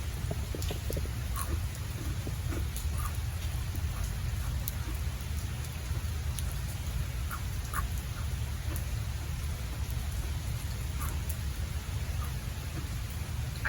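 Steady rain falls outside as an even, continuous hiss and patter, moderately loud with scattered droplet ticks and no talking.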